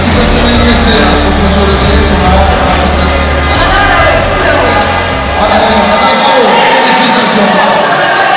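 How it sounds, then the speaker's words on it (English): A crowd roars and chatters in an arena during the Teqball World Cup, a loud continuous wash of cheering and shouting that stays steady throughout, with voices mixed in. "of the crowd enjoying themselves here in the arena"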